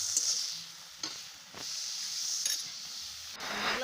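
Chopped pointed gourd tossed into a hot frying pan, soft sizzling broken by a few sharp scrapes and clinks of stirring, fairly quiet and close.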